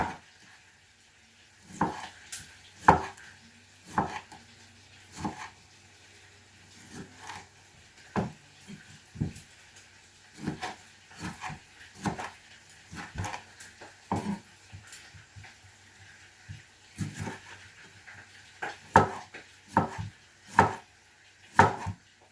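A knife slicing tomatoes on a wooden board, a series of distinct thuds and taps in irregular bursts over about twenty seconds, close and fairly quiet with no talking.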